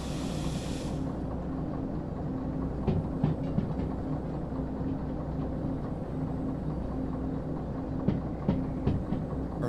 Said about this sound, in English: we're gonna go ahead and stop the train